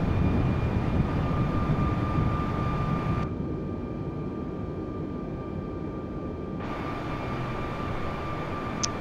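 Airbus A320neo cruising in Microsoft Flight Simulator while turning onto an instrument approach: a steady, broadband engine and airflow drone holds throughout, dropping in brightness for a few seconds midway before returning.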